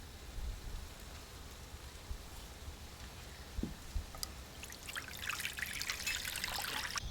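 Water poured into a cooking pot while making a green cauliflower curry: a quiet, low rumbling room gives way to a brief splashing trickle that swells over the last two seconds.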